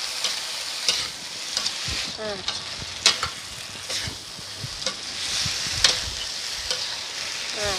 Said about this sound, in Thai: ผัดคลุกเคล้าทุกอย่างให้เข้ากันดีค่ะ อันนี้ต้อง ผัดให้เร็วหน่อยนะคะ